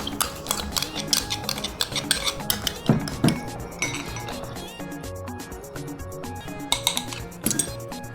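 A utensil stirs barbecue sauce marinade and oil in a bowl, with repeated sharp clinks and scrapes against the bowl in an irregular rhythm, close and fairly loud.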